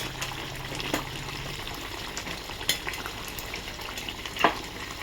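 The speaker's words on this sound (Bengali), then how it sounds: "একটু নেড়ে দিলাম।" Doi katla fish curry being stirred in a pan, a soft wet bubbling sizzle with a few spoon scrapes and clinks, close and fairly quiet.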